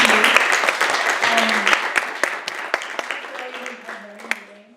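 An audience applauds panelists at an immigration panel event, a broad wash of clapping that fades gradually over several seconds while a voice speaks over it.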